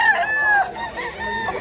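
Gamecock roosters from Bacolod crow up close, two drawn-out calls overlapping at the start followed by further crowing and clucks from the flock, loud and clear with no talk.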